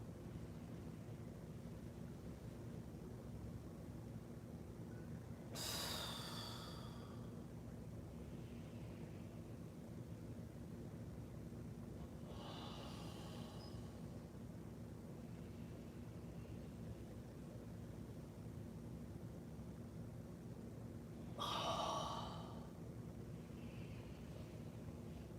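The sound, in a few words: slow breathing and exhaling during qigong practice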